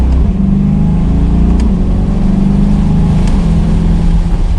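A 2021 Chevrolet Corvette Stingray Convertible C8 engine drones loudly and rises steadily as the car gathers speed, with a gear shift briefly interrupting the climbing tone.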